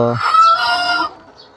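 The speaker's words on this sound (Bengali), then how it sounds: "আমার এখানে আছে পুলেট মুরগি আছে আপনার আড়াইশো পিস" Pullet chickens on a farm give one short, loud, close clucking call that rises and fades within about a second.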